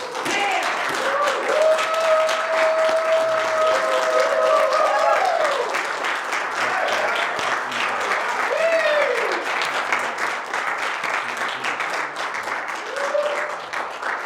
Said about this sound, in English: let's give it a round of applause again